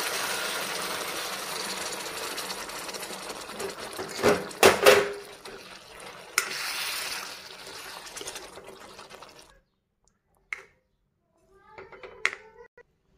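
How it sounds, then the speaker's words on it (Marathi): Hot water is poured steadily into a pot of cooking drumstick pod curry for several seconds, joined by clanks of a vessel, before everything falls quiet apart from a few brief knocks. "आता मी गरम पाणी टाकते ह्याच्यामध्ये"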